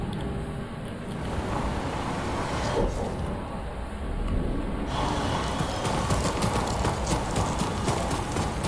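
Horse hooves galloping in the Ghost of Tsushima video game, a steady rapid clip-clop running throughout, mixed with game ambience and a faint high tone that comes and goes.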